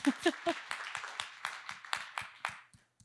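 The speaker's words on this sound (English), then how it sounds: "Like a round of applause to all of you." An audience at a storytelling talk for creators gives a short round of applause: a rhythmic run of sharp claps, fairly close, tapering off over a few seconds.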